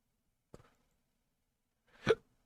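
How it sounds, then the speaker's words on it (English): Two separate hiccups a moment apart, the first short and faint, the second louder and fuller, both close by in an otherwise quiet room. "Hiccups."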